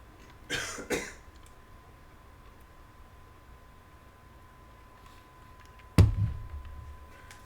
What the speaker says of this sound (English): I've got the coughs.